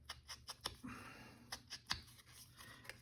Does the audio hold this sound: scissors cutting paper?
yes